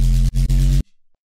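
Techy drum and bass synth patch designed in Serum: one loud, heavy bass-laden stab with gritty buzzing upper texture, briefly chopped twice, then cut off abruptly into near silence with a faint tail.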